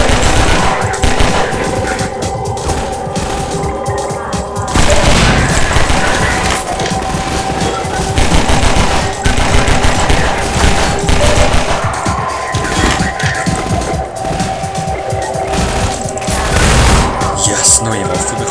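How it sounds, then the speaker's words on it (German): Submachine gun fire from the SMG in Half-Life 2, loud repeated bursts of rapid automatic shots with booming impacts, coming in several clusters separated by short pauses, with a voice talking at times. "Yes, neue Waffe bekommen, hä? Sehr schön. Submachine Gun, ne? SMG."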